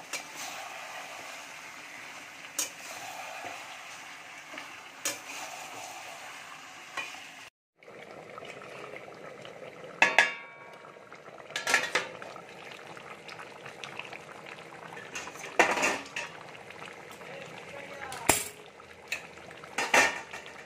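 Chicken curry with chopped tomatoes cooking over low to medium gas gives a steady sizzle and bubble, broken by repeated metallic scrapes and clinks of a spoon against the pan, close and moderately loud, with a brief pause midway and no voices.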